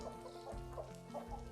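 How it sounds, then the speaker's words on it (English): Chickens and roosters clucking steadily in a farmstead enclosure in the Planet Zoo video game, with little chicks among them; repeated short clucks at a moderate, even level over constant ambient farm background. "Beautiful roosters."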